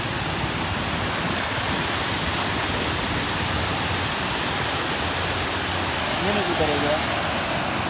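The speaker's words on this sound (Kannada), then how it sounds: "ಇಲ್ಲಿ ನೋಡಿದ್ರೆ ಫುಲ್ ಫಾಲ್ಸ್ ಬರ್ತಾಯಿದೆ" A full waterfall feeding a lake near a lakeside spot, heard as a loud, constant broadband roar of rushing water that fills the whole stretch without letup.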